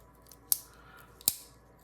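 The small scissors of a Micra multi-tool snip twice, two crisp close metallic clicks spaced under a second apart against near silence.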